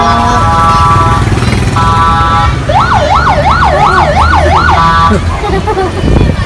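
An ambulance siren wails loudly in a steady rising-and-falling pattern for about two seconds outside Gandhi Garden zoo in Karachi, with traffic rumble and horn-like electronic tones before and after.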